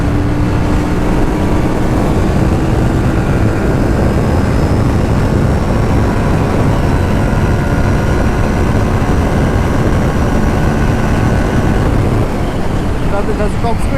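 Aprilia Tuono 457 motorcycle on the road, its engine giving a loud, continuous roar mixed with heavy wind rush, with rising tones that suggest acceleration, and a rider talking over it.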